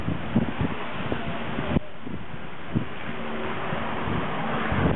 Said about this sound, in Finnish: Kuuma tuuli.